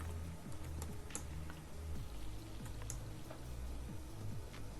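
Keys on a computer keyboard clatter in a quick, uneven stream of close, crisp clicks, steady and fairly quiet with no voices over them.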